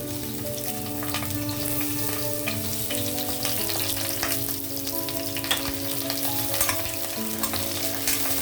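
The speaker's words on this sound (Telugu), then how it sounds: "ఆనియన్ కొంచెం బ్రౌన్గా ఫ్రై చేసి తీసేస్తానండి" Onions fry in two spoons of oil in a pan, producing a steady, close sizzle with faint stirring scrapes. Soft background music runs beneath the whole stretch.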